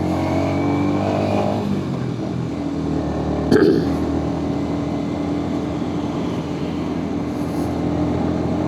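On a highway trip, a motorcycle loaded with a full set of boxes holds high revs. Its engine drones loud and steady with constant rushing noise, broken by one brief burbling blip midway.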